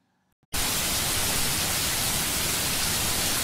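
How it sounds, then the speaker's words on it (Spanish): Steady, dense rain hiss begins abruptly after a brief quiet moment and continues evenly and loudly. "Es el sonido de la lluvia."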